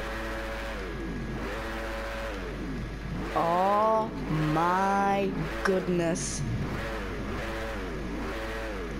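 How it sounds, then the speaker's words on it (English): An Aprilia motorbike engine revs in the racing video game DriveClub, a steady buzzing idle climbing into two strong rising revs before settling back, with someone speaking over the engine. "let's just rev this engine and let's see how it sounds"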